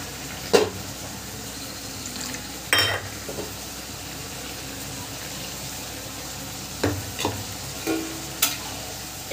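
Masala spice paste with tomato and poppy seed paste fries and is stirred in a pan, a steady low sizzle broken by a few sharp scraping stirs spaced apart.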